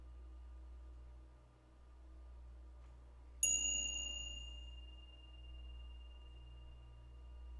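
A meditation bell at a celebration service is struck once, giving a clear, bright ring that lingers and slowly fades over a quiet, humming room.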